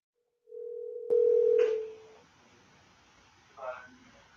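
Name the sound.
telephone dial tone after a phone call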